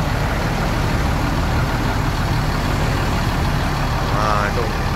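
A truck engine idling through its exhaust stack, a loud, steady low rumble that holds unbroken from start to end, with people talking faintly over it.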